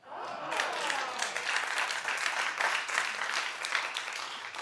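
A talk show co-host claps steadily, a brisk, sustained run of close hand claps lasting several seconds.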